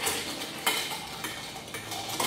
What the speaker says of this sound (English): I'm just going to give that a proper stir